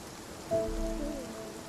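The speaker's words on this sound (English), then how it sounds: "I want the rain in the background." Steady rain falls in the background of the video game Spiritfarer, a soft continuous hiss, with a brief tonal chime and low hum rising over it midway.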